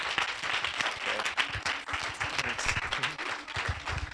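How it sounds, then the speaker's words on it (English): A festival audience applauds closing remarks with steady, scattered clapping for several seconds, moderately close and fairly loud, with no voices over it. "I don't want to have too much applause for me"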